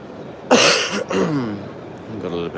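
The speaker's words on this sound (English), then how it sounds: "excuse me if I'm clearing my throat here" A sharp, forceful throat clearing bursts out once, followed by someone speaking in a slightly rough voice.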